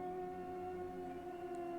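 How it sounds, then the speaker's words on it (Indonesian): An ambulance siren sounds as a steady, unbroken tone, held at a moderate, slightly distant level throughout. "Tak lama ambulan pun datang"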